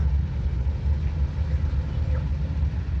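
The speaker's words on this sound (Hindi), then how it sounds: "बाकी गाड़ी ये एसी के साथ चल रही है, पहला गियर, और गाड़ी क्लच पकड़ा हुआ है" A Suzuki Cultus idles in first gear with the clutch held and the air conditioning running, giving a steady low engine rumble and hum that stays even and close, with no talking.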